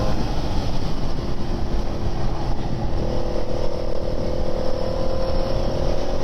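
Ducati V-twin motorcycle, a 696 or S2R 800 with slipper clutch, dropping down through the gears: steady loud engine and wind roar throughout, with a rising engine tone entering around the middle as revs change.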